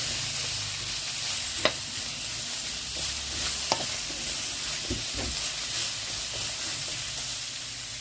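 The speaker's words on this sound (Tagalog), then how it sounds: "Ayan, stir fry. Stir fry na sitaw." String beans (sitaw) stir-fried with pork tenderloin in a pan. A steady, loud sizzle runs throughout, with occasional scraping and clinking from the stirring utensil.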